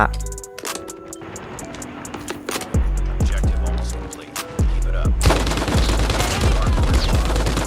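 The RAAL MG machine gun fires in Call of Duty Mobile in loud, rapid bursts and sustained rattling volleys, with gaps between strings of shots in the game audio.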